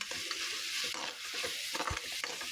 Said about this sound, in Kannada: ಈಗ ಹಸಿ ವಾಸನೆ ಹೋಗುವವರೆಗೆ ಈ ರೀತಿ ಫ್ರೈ ಮಾಡಿ ತಗೊಳ್ಬೇಕು